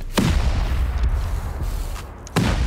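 Automated turret firing in a base-raiding survival game, two heavy booming shots about two seconds apart, close and loud over a constant low rumble.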